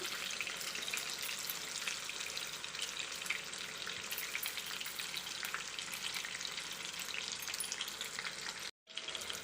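Fish frying in a pan at a beachside cooking spot, a constant crackling sizzle that runs unbroken and fairly loud, with a momentary dropout near the end.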